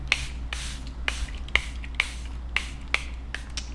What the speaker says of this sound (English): To set my face, I'm going in with the Charlotte Tilbury airbrush setting spray